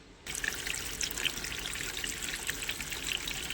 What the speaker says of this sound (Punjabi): ਇੱਕ ਵਾਰ ਟੱਬ ਇਹਦਾ ਫੇਰ ਭਰ ਲੈਣਾ ਪਾਣੀ